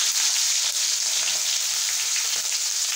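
Chopped onion dropped into hot oil with panch phoron and fenugreek for a kadhi tempering, giving a constant, bright frying sizzle up close without any talk.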